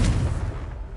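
Confringo blasting curse in Hogwarts Legacy erupts as a loud, close explosive boom with a sharp onset, then a deep rumbling tail that stays heavy through the whole second with no voices.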